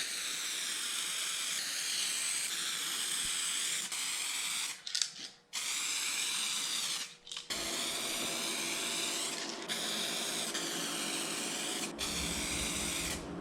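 Aerosol spray can painting a computer case, long steady hissing bursts close up, broken by a few brief pauses and taps between passes.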